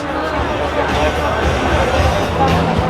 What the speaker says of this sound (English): these are some of the worst crowds I've ever seen here at Disney Springs